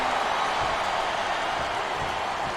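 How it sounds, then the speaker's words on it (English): A game crowd in WWE SmackDown vs. Raw 2008 roars as a continuous, fairly loud wash of cheering during a wrestling match, with no distinct voices on top. "I love hearing a crowd come alive, even if I disagree with what they're saying."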